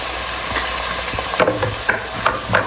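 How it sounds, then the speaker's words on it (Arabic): Green beans (lubia) tipped into a hot pot: a steady loud sizzle with several sharp clattering knocks and stirring scrapes, close up. "هلا رح نزل اللوبيا، واكيد اللوبيا منسفها تنسيق يا جماعه"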